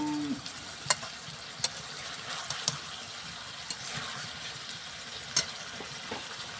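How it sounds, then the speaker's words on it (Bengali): Soft sizzling of tilapia fish frying in spice paste in a pan, with occasional scraping clinks of a utensil stirring through it. "মাছগুলো ঢেলে দিলাম একটু মশার সাথে লাড়াচাড়া করবো"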